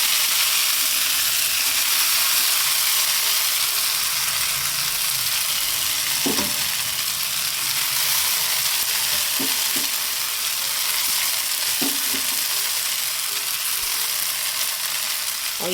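Chow mein frying in a pan at home, a loud continuous sizzle throughout, with occasional scrapes and clinks of stirring on the metal, no talk.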